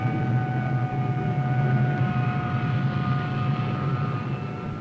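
Military aircraft launching as plane guard during an amphibious assault operation, a steady loud engine roar with sustained whining tones holding throughout.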